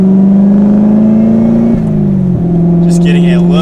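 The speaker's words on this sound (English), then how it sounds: "Just getting a little bit of the sound of the car." A 2019 Chevrolet Corvette ZR1 engine holds a loud, steady drone that dips twice in pitch as it shifts, with a faint whir rising near the end.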